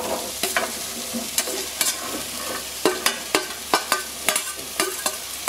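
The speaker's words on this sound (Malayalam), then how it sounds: "ഇതിലോട്ട് നമുക്ക് വറുത്ത് വെച്ചിരിക്കണം ചക്ക അങ്ങ് ഇട്ട് കൊടുക്കാം" Fried tender jackfruit pieces tipped into a pan of masala and stirred, sharp spoon clanks and scrapes in an irregular rhythm over a soft sizzle, close with no talk.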